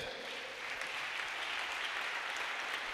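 A church congregation claps together in sustained, steady applause that stays loud and dense throughout, with no talk over it.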